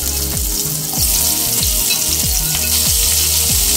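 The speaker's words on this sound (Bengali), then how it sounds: "এবার উচ্ছে ভেজে নেব।" Bitter gourd pieces fry in hot mustard oil in a kadai, a loud continuous sizzle with repeated stirring scrapes every half second or so, close up with no talking.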